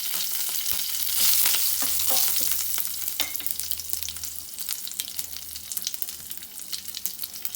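Mustard seeds, a pinch of hing and curry leaves sizzling in a tablespoon of hot oil in a pan, a loud bright crackle that flares up and then settles into a steady spitting fry with light stirring clicks.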